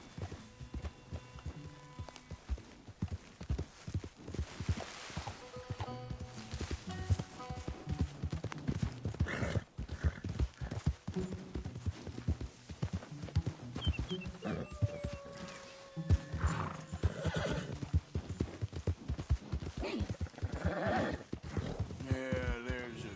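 Horse hooves clip-clop steadily in an anime western scene, with occasional neighing over background music, and brief voices spoken over the riding.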